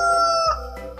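A 3D cartoon rooster gives a short, loud, close crow that ends in a brief falling tail, with no speech.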